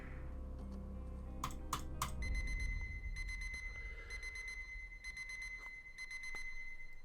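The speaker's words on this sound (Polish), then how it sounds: "Kto tak głośno ustawia alarm?" A loud electronic alarm in the video game SCP Endurance beeps in repeated bursts, shrill and insistent, over a low background rumble, with no voices.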